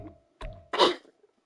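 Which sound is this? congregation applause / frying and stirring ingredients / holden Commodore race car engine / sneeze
sneeze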